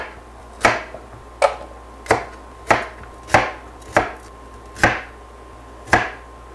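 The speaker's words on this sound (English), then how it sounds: "I'm going to cut off the tip, and then I'm going to cut off the other tip" A knife chops through radishes on a cutting board in eight sharp, separate thwacks at a slow, uneven pace, close and clear with quiet room tone between strikes.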